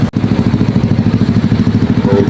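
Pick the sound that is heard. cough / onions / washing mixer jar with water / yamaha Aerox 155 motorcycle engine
yamaha Aerox 155 motorcycle engine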